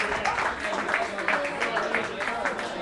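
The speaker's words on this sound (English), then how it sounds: "Give him a round of applause" Applause for the performer Tuci after a set at the RMA, a dense, steady wash of clapping from a crowd lasting throughout, with likely cheering mixed in.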